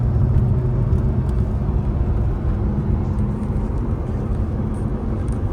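A 3.8-liter direct-injection Porsche Carrera S cabriolet engine with a seven-speed PDK transmission drives along with a steady, low droning hum and road rumble, continuous and fairly loud throughout, with no talking.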